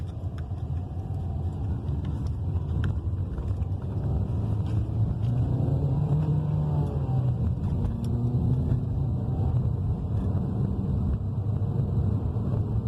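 A 2018 Hyundai Elantra with a six-speed gearbox accelerates on the road, its engine drone rising steadily in pitch through the revs under constant road and wind rumble, heard from inside the cabin.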